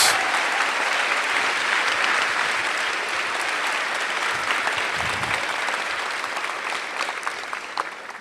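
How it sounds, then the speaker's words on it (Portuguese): A church congregation at a leaders' service gives a dense, continuous round of clapping that holds steady, then thins and tapers slightly toward the end. "Uma salva de palmas"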